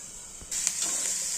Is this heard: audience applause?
no